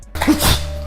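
One loud, close sneeze erupts abruptly after a brief silence, a single forceful burst lasting under a second with no talk.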